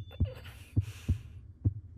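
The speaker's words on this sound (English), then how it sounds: "Heartbeat, bro. The heartbeat sounds." A heartbeat sound effect in an anime thuds in deep, close paired beats, about four of them over two seconds in a steady rhythm, with faint background sound between the beats.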